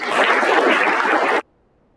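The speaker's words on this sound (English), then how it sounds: "can we also give another round of applause for the principal for this speech?" An audience at an academic and occupational skills conference claps for the principal's speech, a dense, fairly loud burst of applause that ends abruptly after about a second and a half.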